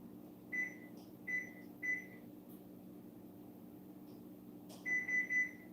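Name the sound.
oven timer being set, beeping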